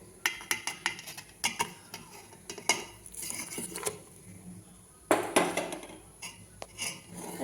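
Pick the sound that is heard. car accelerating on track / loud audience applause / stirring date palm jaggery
stirring date palm jaggery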